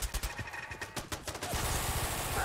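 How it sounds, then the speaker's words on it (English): Gunfire in Fallout 4, a rapid burst of shots crackling over the first second and a half, then giving way to a steady, denser wash of combat noise. "What are we shooting at now"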